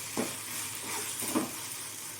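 Curry leaves frying in hot oil with ginger garlic paste for a Tamil-style prawn gravy, giving a soft, steady sizzle with a couple of brief louder crackles, close and alone.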